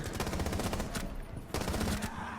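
Rapid automatic gunfire from the Jackal primary weapon in a shooter video game, a loud continuous burst of close shots with a short pause before firing resumes.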